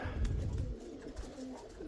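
Pigeons coo softly nearby, a few low, muffled throaty calls over faint background hiss, with no talking.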